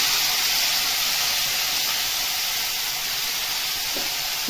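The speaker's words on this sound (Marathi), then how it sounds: "कांद्याची भाजी टाकतो आहे" Chopped spring onion greens hiss steadily as they are stir-fried in hot oil seasoned with cumin and asafoetida. The sizzle is loud and continuous throughout, with no speech.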